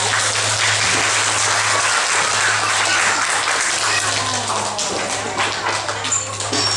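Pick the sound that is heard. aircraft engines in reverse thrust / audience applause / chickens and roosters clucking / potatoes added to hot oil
audience applause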